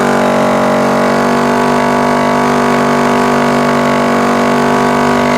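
A battery-powered tire compressor runs continuously at close range, a loud, even mechanical drone with a rapid pulsing rattle as it pumps air into a tire. The sound holds steady throughout and no one speaks.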